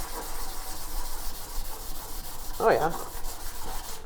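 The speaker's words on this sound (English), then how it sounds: "Let's try the scuff pad. Okay, let's wet it down" Scuff pad scrubbing wet bare metal inside a 1972 Chevy Nova during restoration, a steady close rubbing hiss with one louder scrape near the end; someone briefly speaks.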